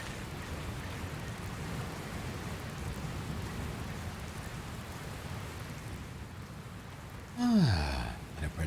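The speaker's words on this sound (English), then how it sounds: "Looks like there's another storm rolling in." Rainstorm with thunder in the video game Dragon Quest Builders 2: a steady rain hiss with low rumbling throughout, then a loud, sharp falling sweep and thump near the end.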